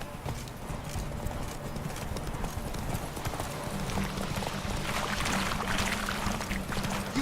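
In The Witcher 3: Wild Hunt, the horse Roach gallops with a steady, rapid drumming of hooves that runs the whole time beneath layered game ambience and effects, fairly close and consistent.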